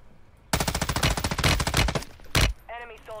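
Rapid automatic gunfire from a squad fighting close by in Call of Duty, a dense burst of shots that stops abruptly, followed by a single heavy shot and then a voice speaking briefly.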